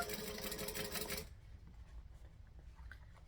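A sewing machine stitches a triangle bag in a fast continuous whir for just over a second, then stops, leaving quiet low handling noise; no talking.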